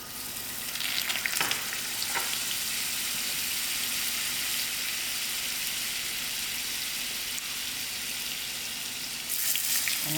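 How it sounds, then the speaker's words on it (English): Oil and margarine sizzle steadily in a pot at the start of a dhal, a dense continuous frying hiss at close range with a couple of brief clinks near the beginning and a louder surge at the end. "I'm going to put in my quarter cup of oil, and together goes my 2 tablespoons of margarine"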